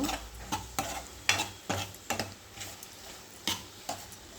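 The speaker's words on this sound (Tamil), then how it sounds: "இன்னும் கொஞ்சம் பாருங்க நல்லா நல்லா வதங்கிட்டுருக்காங்க" Mushrooms and masala sautéing in a pan for mushroom biryani: soft sizzling under repeated sharp scrapes and clinks of a stirring spoon against the pot, close and fairly quiet.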